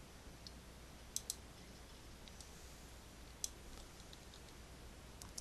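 A computer mouse clicks a few times, sharp isolated clicks in pairs and singles over a faint quiet background.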